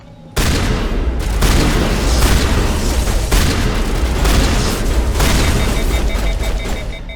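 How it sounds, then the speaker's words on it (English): Enemies blow up in Mass Effect amid dense, loud combat noise, with sustained rumbling blasts and bursts of weapon fire that fill nearly the whole stretch. "Oh, they explode too."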